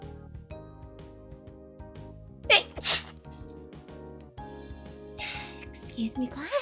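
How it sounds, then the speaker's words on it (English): A person sneezes over light background music: a sharp double burst partway through, followed by brief noisy vocal sounds toward the end. "Oh, I have to sneeze!"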